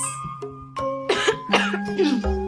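Coughing from someone eating a corn fritter, a run of several sharp, close coughs and throat-clearing bursts in quick succession.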